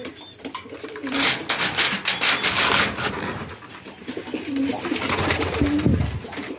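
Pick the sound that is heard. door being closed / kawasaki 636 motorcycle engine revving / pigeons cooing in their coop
pigeons cooing in their coop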